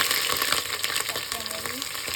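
Onions frying in oil with cumin and whole spices for a thin beef and potato curry, a steady close sizzle with scattered crackles and faint stirring scrapes, no voices.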